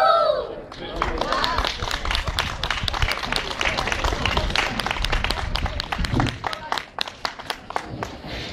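An audience claps for kindergarten children and young girls after a zumba performance. The clapping is dense at first, then thins into scattered claps as it fades, with voices over it.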